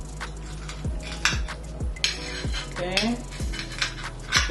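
Cutlery strikes a plate again and again as a crispy tofu grilled cheese sandwich with melted cheese, mushrooms and onions is cut into, sharp clinks over a low background hum, with a brief spoken word.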